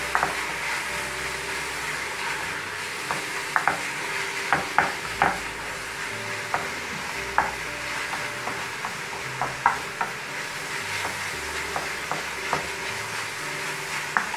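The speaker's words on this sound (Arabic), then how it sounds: "اشوح بالشكل دوت البصلة بتاعتي" Onion sautéing in a pan for stuffed duck with rice, liver and gizzards: steady sizzle with frequent sharp scrapes and clinks of stirring scattered throughout, close and moderately loud, with no talking.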